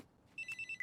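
A faint electronic telephone ring sounds from an anime episode, Mob Psycho 100, with rapid repeating high trilling bursts over a quiet background.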